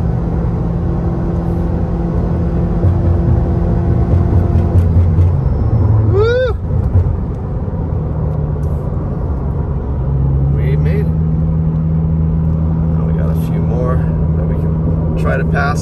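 Steady engine drone and road rumble of a car climbing mountain highway 38 toward Big Bear, California, with shifting engine pitch as it works uphill; a person talks over it throughout.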